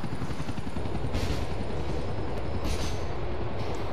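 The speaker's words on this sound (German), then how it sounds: "Hubschrauber flattert hier drüber." Helicopter flying overhead in the video game GTA 4, heard over Liberty City as a steady broadband rotor whir that swells in repeated pulses, mixed with continuous train rumble.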